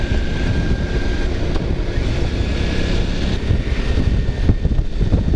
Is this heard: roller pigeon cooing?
no